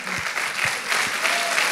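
A brief stretch of church congregation clapping at a Spanish-language service, thick steady applause with a few soft low thuds mixed in.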